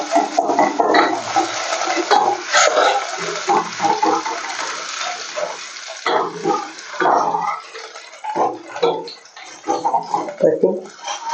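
Ginger garlic paste hits hot oil for ragda pav, giving a bright, crackling sizzle that starts strong and then breaks into choppy bursts, with a voice talking over it.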